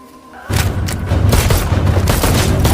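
In a film action scene, an RPG blast lands with a sudden heavy boom, then a loud, sustained clatter of gunfire and crackling rolls on without a break.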